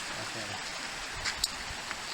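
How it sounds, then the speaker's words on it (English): River water rushing beneath a cinder-block and rock crossing on a canyon trail, a continuous close hiss with a few faint clicks and a soft voice under it. "Look at that, raging river"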